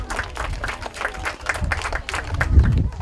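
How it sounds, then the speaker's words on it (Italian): Schoolchildren clap for themselves outdoors during a civil protection drill, with crisp individual claps in a loose rhythm over low background rumble, and the applause swelling slightly toward the end. "fate un applauso voi stessi invece di farlo sempre a noi che parliamo"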